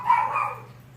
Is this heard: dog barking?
yes